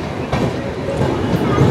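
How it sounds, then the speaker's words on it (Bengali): A passenger train runs along with its sleeper coach rumbling in a steady broadband roar, close by and continuous for a brief moment, with no talk. "আমাদের ট্রেন"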